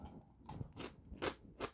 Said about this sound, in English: They're crisp and crunchy, but not so much that they're hard to bite into